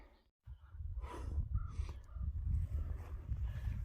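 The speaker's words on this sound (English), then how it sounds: "Sounds like my crow friends are here." Crows caw faintly in the distance in open mountain country, over steady wind and the scuffs and breathing of someone walking outdoors.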